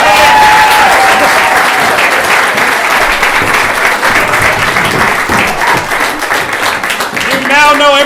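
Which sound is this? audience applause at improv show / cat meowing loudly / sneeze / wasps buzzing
audience applause at improv show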